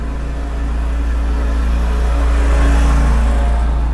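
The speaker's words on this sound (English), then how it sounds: "it's just the lawn being mowed outside my window" A continuous motor drone hums in the background, steady and moderately loud, swelling slightly midway as a lawn mower runs nearby outdoors.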